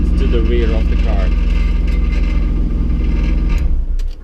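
A car with a newly fitted loud aftermarket exhaust rumbles hard at close range, holding a deep, steady drone with a few rising revs before dropping off near the end, while someone talks over it.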